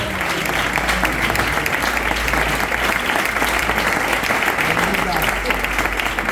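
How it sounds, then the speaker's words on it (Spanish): A church congregation applauds during a pastor's sermon, steady dense clapping filling the room without a break, loud and continuous with crowd noise mixed in. "Dale un fuerte aplauso a Dios."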